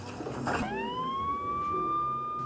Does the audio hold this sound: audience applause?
no